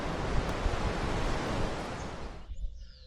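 Ocean waves on the coast along the Fisherman's Trail make a loud, continuous surf roar with some wind buffeting, easing to a quieter wash near the end.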